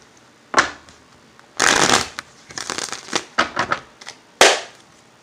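A tarot deck is shuffled in several quick bursts, crisp riffling and flapping of cards close by, separated by short pauses, with a few short bursts in the middle.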